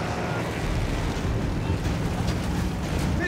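Boat engine running in the video game Battlefield 1, a steady loud rumbling drone with water and wind noise throughout, unbroken for the whole stretch.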